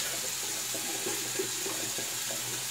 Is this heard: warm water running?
yes